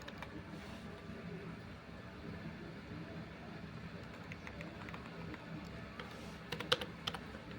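Steady clatter of a computer keyboard as C program code is typed, with rapid key presses at a moderate, quiet level and a few louder clicks toward the end.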